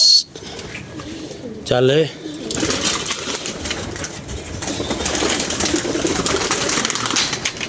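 Pigeons coo in a brief wavering burst at close range, with a voice speaking nearby and steady outdoor noise filling the rest of the clip.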